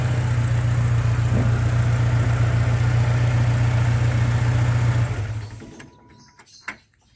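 A Toyota Vigo pickup engine idles steadily with a loud, even low hum for about five seconds, then is switched off and fades, leaving faint clicks and a short knock in near silence.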